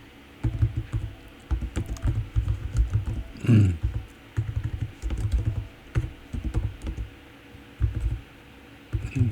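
Rapid clicking of a computer keyboard as someone types in bursts, close and fairly loud, with short pauses between runs of keystrokes and no one talking.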